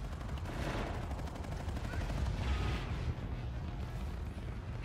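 Sustained video game gunfire in a Call of Duty style multiplayer match on the map Crusher, with dense, continuous bursts of shots and rumbling blasts. The firing stays loud and unbroken throughout, with no clear pauses.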